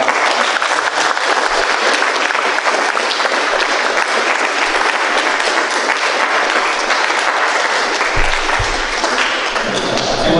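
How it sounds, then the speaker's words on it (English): Applause at a university religious forum at UTSA, thanking everyone who attended: a loud, dense, continuous round of clapping from a sizable crowd that holds steady for about ten seconds. "we give a big round of applause for everyone who came out"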